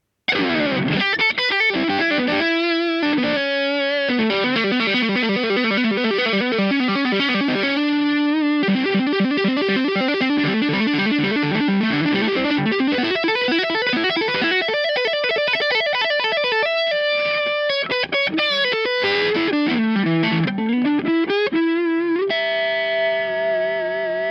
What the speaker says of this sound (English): The dirty channel on the Tour Baby sounds very classic.